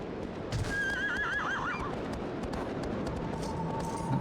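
A horse in the video game Shadow of the Colossus lets out a clear, wavering whinny over a steady bed of hoofbeats and ambient game sound.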